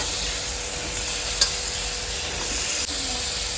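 Eggs dropped into hot masala in a frying pan give a loud, steady sizzle and hiss close up, with a brief clink partway through and no talking.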